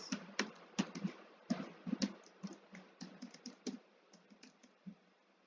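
Typing on a computer keyboard while filling out an online graduate application form: close, fairly quiet key taps in irregular bursts, with no talk.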